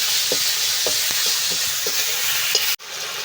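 Ground paste of ginger, cumin and coriander frying in oil in a village kitchen, a close, even sizzle broken by soft stirring scrapes, with a brief abrupt cut near the end.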